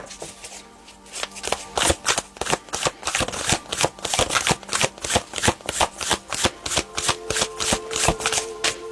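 Tarot cards are shuffled in a steady run of crisp, close riffling bursts, repeated rapidly without pause, with no talking over them.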